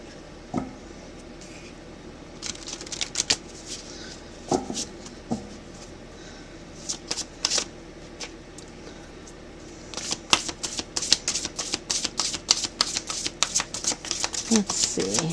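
A deck of oracle cards shuffled by hand, bursts of riffling card flutter and slaps that grow denser and louder toward the end, with a little quiet talk mixed in.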